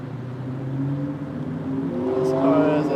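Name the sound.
car engine sound nearby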